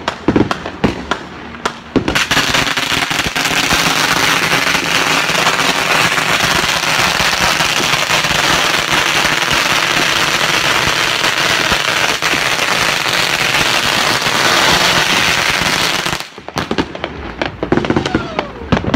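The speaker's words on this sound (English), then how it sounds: "That's a lot of fireworks." A dense, continuous barrage of crackling and popping fireworks and firecrackers roars for several seconds at New Year's on Oahu, Hawaii, loud and close, with scattered bangs before and after.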